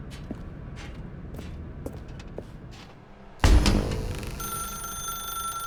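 A telephone rings in The Stanley Parable game, a loud sudden ringing that begins partway through after quiet footsteps and keeps going steadily to the end.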